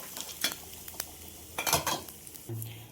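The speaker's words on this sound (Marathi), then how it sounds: "ह्या ठेच्यावर आपण ही फोडणी टाकायची" Hot tempering poured onto green chilli thecha in a kitchen brings a few sharp crackles and clinks of a spoon against a pan, close and moderately loud, with a soft hum near the end.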